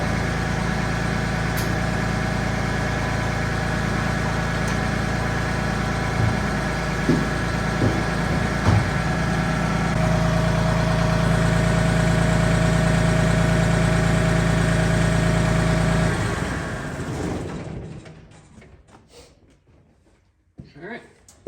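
A John Deere 855 compact tractor idles close by with a steady, even diesel rumble for most of the stretch, then the engine is shut off and winds down to near silence at the end.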